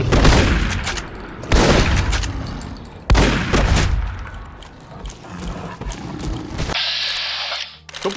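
Rapid bursts of loud shotgun fire with heavy mechanical clanks and thuds, fired in several volleys, ending in a steadier hiss, in the video game Fallout: New Vegas.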